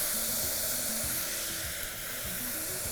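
Green chillies tossed into a frying tomato and onion mixture in a Tamil home-style cooking pan, giving a steady, close hiss and sizzle with faint stirring scrapes throughout.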